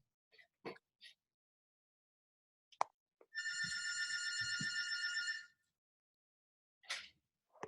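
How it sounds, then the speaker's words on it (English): A telephone rings during an online class meeting: one continuous two-second trill of rapid bell-like pulses, fairly faint and somewhat distant, with a few soft clicks and knocks before and after. "I again have to pause because my telephone is ringing."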